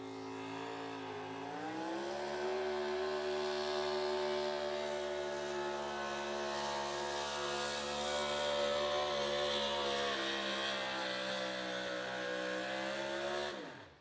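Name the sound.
Chevrolet pulling truck engine running down the track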